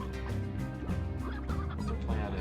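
Several hens in the video game Slime Rancher cluck and chatter in a busy, continuous mix over steady background music, the calls overlapping in quick irregular bursts.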